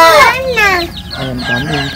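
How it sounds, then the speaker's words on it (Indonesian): A chicken clucks loudly and close, with several quick calls in a row, while people talk nearby at a home where pigeons are kept. "Apa lagi nih kalau bukan ayam?"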